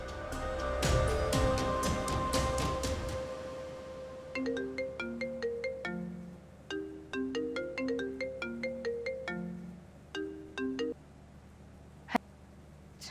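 A mobile phone rings on an outgoing call, a melodic electronic ringtone repeating its short tonal phrase loudly and steadily before cutting off, with a single click near the end.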